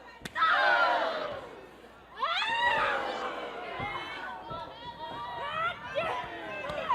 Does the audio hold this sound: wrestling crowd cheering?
yes